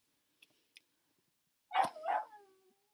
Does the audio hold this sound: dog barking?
yes